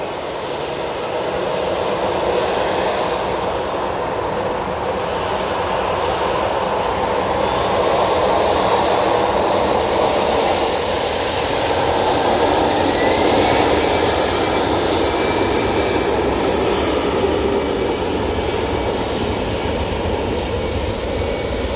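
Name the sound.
airliner taking off at Manchester Airport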